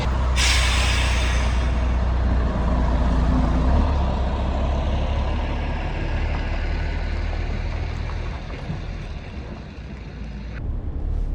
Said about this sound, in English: There's Martin's truck, Aphrodite.